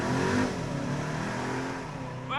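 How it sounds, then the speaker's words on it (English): Skoda Octavia RS IV, a 2023 sedan with a petrol particulate filter, accelerating outside with a muted, smooth engine drone and a slight turbo whoosh, steady and moderately loud, a brief rising whistle near the end. "Well, a little bit of turbo sound, but that's about it."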